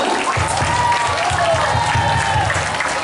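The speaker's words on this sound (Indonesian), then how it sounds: "kasih dulu apresiasi aplaus untuk temannya" An indoor audience at an Isra Mi'raj commemoration breaks into applause, a dense, steady clapping that carries through the whole stretch at moderate loudness.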